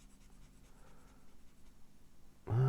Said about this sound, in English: You can sit there and you can just fine shade like that